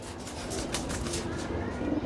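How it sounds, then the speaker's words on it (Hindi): Pigeons in a fancier's loft coo softly and repeatedly, low throaty calls close by against a constant background hum. "ये है कबूतर"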